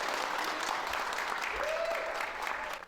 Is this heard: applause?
yes